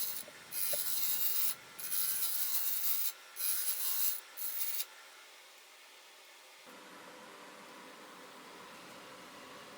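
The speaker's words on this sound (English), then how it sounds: "So here I'm using a Carter and Son bowl gouge, which is what I use for most of this project." A Carter and Son bowl gouge cuts a spinning padauk bowl on a lathe, giving bright hissing shavings in several short bursts, followed by a quieter steady hum from the lathe.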